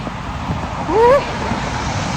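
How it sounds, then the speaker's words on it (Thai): Strong wind blowing on a cold, snowy street abroad, a constant broad roar buffeting the microphone while someone walks outdoors, with a brief voice rising over it midway. "ลมก็แรงนะคะ ต้นไม้อย่าหักใส่ชั้นนะ"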